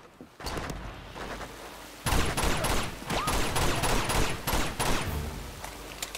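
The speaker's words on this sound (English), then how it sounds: "That's an enemy sniper." Enemy sniper gunfire in the video game Uncharted 2, with a few scattered shots and then a loud, sustained stretch of rapid gunfire and impacts.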